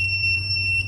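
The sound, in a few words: fingerprint sensor buzzer beep for an unregistered fingerprint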